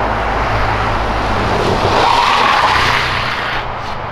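A Volkswagen Jetta TSI Stage 3 drifting, its tires skidding in a loud, sustained screech over the steady roar of the engine.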